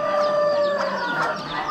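Hens and a rooster at an Amish animal auction keep up a busy, overlapping clucking near at hand, with a crow-like call rising among them.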